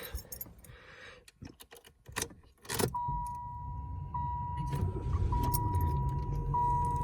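A Chevrolet Lumina engine with 82k miles and past running issues cranks and starts after some clattering, then settles into a steady idle hum with a faint whine, nearby.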